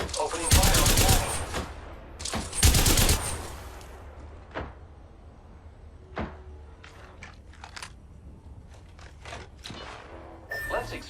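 Enemy gunfire in the video game Apex Legends comes as two loud bursts early on. Sparser, fainter shots and clicks follow over a low game background, with no talk.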